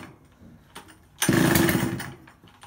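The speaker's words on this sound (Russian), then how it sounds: "А знаешь, почему пила называется дружба?" A Druzhba chainsaw bursts into a loud, harsh running roar after a second of quiet clatter, holding briefly before tapering off.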